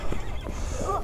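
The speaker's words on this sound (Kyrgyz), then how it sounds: "бурул өңдүү түстүү атыбыз чыгып келди" A three-year-old grey stallion named Gladiator, a brief close whinny-like sound with a hoof clop in one short burst.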